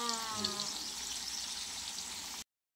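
Close, steady sizzling and crackling of tofu frying in hot oil, with a brief tonal whine at the start before cutting off.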